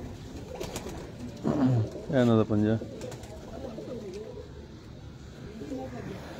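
Pigeons of a prized breed cooing on a rooftop loft, a few soft rolling coos in a short burst, close by, alternating with someone talking over light background noise.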